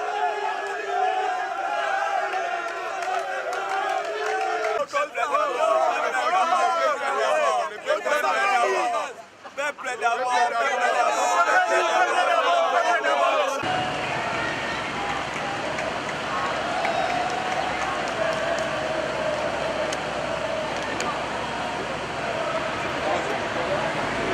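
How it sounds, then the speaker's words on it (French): A huge crowd in Kinshasa cheers and sings for the returning head of state. The noisy, dense crowd roar and chanting fill the background while a voice talks over them throughout. "le garant de la nation a été ovationné par une foule immense spontanée ayant appris la nouvelle sur son retour à Kinshasa, entonnant de chants et poussant de cris de joie"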